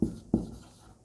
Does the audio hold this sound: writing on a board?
yes